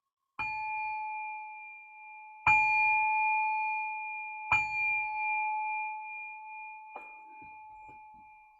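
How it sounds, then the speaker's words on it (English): A small bell is struck three times at an even pace, each clear metallic ring sustaining and slowly fading in a quiet meditation class room, followed by a couple of faint soft taps. "I'm happy the bell finally works."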